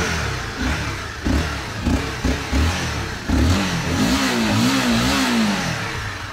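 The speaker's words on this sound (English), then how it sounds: "now I'm going to rev the engine up and I'm going to leave it for idle about 5 minutes or so" A Honda CBR 250R motorcycle engine revs in a series of short blips, then holds a wavering higher rev, close and steady with no talking.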